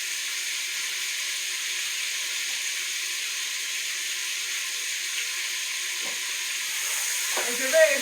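Meat searing in a pan with translucent onions for spinach with peanuts, a steady broadband hiss of sizzling fat held evenly throughout, with a few soft scrapes and clinks near the end.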